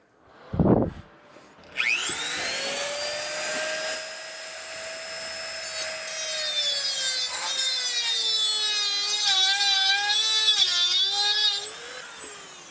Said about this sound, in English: hit it with a Dremel, shave some of that bolt off